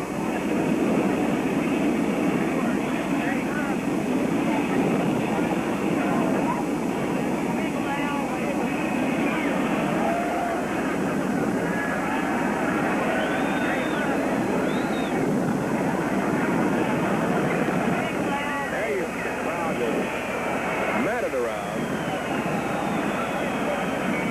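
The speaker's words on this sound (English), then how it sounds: "Here comes the jet." The presidential jet carrying President and Mrs. Kennedy comes in at the Mobile airport, producing a sustained loud roar with some shifting tonal whine as it nears and passes, heard alone without talk.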